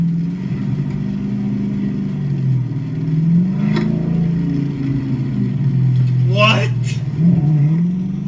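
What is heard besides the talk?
Dodge Charger Scat Pack engine revving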